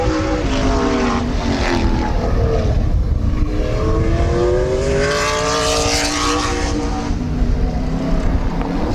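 Late model race cars lap Midvale Speedway with loud roaring engines, and the pitch sweeps up and down as the cars pass close by in a continuous drone.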